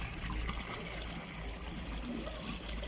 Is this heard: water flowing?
yes